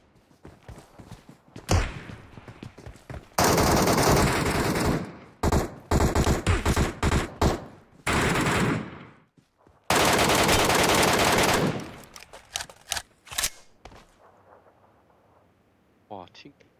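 Bursts of incendiary-round gunfire in the video game Metro Royale, loud rapid automatic volleys broken by short pauses and a few single thuds, with voices talking over parts of it.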